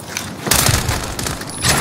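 Short volleys of video game gunfire, loud and close, in two quick bursts across a brief moment.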